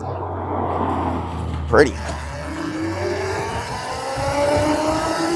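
A C8 Corvette going by on the road, its engine note rising and sweeping past over a steady ride-along rumble from a small electric quad, with a brief spoken remark over it.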